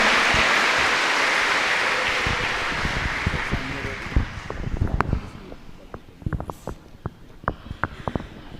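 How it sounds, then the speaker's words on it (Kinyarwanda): Congregation at a Catholic Mass in Gikondo parish clapping hands in welcome: a dense wash of applause that slowly fades, giving way to scattered individual claps and rustling as voices murmur underneath. "Clapping our hands, welcome."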